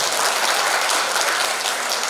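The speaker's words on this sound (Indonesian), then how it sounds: "Tepuk tangan buat MC kita." An audience at an MC training session in Gontor applauds the MC, a dense, steady burst of clapping with no talk.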